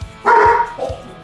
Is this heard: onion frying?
no